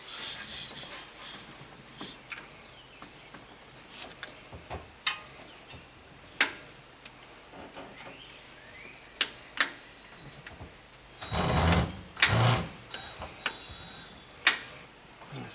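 Tools work on the AC clutch bearing of a 1994 Chevy OBS truck, producing scattered sharp metallic clicks and snaps of a snap ring at irregular intervals, plus a louder scraping burst near the end.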